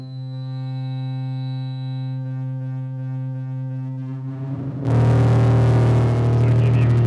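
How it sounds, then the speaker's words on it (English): Feedback looping between 0-Coast and Strega synths and a computer: a steady droning harmonic tone that shifts and abruptly swells into a louder, harsher, screaming buzz near the end, no talking. "one of my favorites here is feedback, which basically means I'm creating a feedback between the synths and the computer"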